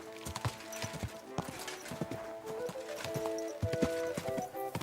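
Horse hooves clip-clop by in an uneven, continuous series of sharp knocks, fairly close, over a layered background of steady tones.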